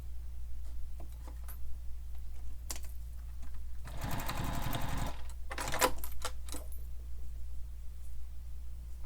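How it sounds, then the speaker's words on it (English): A sewing machine stitches a long basting stitch along a short raw edge, a brief burst of rapid close whirring and clatter, with scattered small clicks and handling noises before and after in a quiet room. "when you're basting that short raw edge together, you can leave your stitch length at a longer stitch length"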